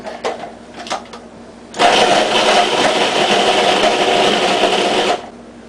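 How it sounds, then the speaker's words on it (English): A food processor chops bell peppers and a cut-up onion for meat loaf, a loud steady motor whir that kicks in after a few soft knocks, runs for about three seconds and then cuts off abruptly. "Bought a bag of peppers and toss that in the food processor with a onion cut up onion."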